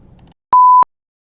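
Telephone busy signal: a steady electronic tone that sounds once briefly and cleanly after a faint murmur of voices, then cuts off into silence.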